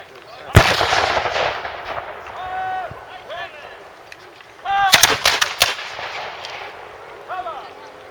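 Period cannons fire at a Sealed Knot battle reenactment: one sharp, loud blast, then a tight cluster of booming shots a few seconds later, with a voice talking between and over the bangs.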